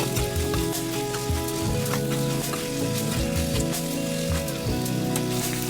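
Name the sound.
chicken meat frying in a pan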